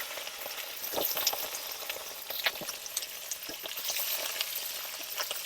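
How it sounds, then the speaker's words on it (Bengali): Baby corn, carrot and potato frying together in a kadai: a steady, close hiss of hot oil with crackling pops and occasional stirring scrapes, no voices. "এবার বেবিকর্ন, গাজর, আলু একসঙ্গে ভেজে নেব।"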